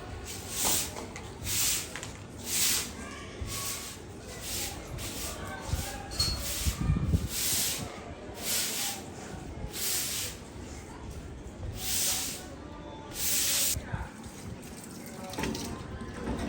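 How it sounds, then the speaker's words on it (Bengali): Water sprays hard over a barbecue grill as it gets washed, making a steady hiss that swells and drops in repeated bursts of spraying and splashing over about sixteen seconds, close and loud. "গাইস আমরা বারবিকিউ মেশিন ওয়াশ করছি।"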